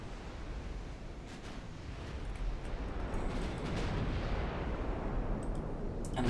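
Naval gunfire from a destroyer's 4.5 inch guns in the Ultimate Admiral Dreadnoughts game, a steady rumbling barrage of distant booms over a continuous roar that grows slightly louder, with no talk.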